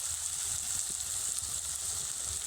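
Whole spices fry in hot oil in a pan, giving a steady, soft hiss with faint crackles, alone and close by.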